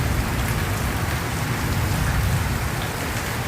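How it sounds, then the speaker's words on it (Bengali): Heavy morning rain pours down steadily, a dense and continuous hiss of drops hitting surfaces without a break and with no voices. "প্রচণ্ড বৃষ্টি প্রচণ্ড"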